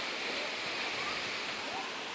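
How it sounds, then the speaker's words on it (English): Steady rushing roar of a waterfall near Mae Sot, Thailand, heard close and full, a continuous broadband wash of falling water with no voices over it. "You can see the waterfall."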